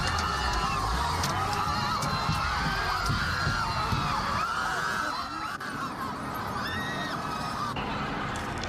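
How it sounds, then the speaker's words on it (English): Demonstrators scream and shout in panic as a U-Haul truck drives into a crowd of protesters, with many wavering, overlapping voices and cries forming a loud, chaotic outdoor din throughout. "Screams and panic as that U-Haul truck drives straight into a crowd of demonstrators"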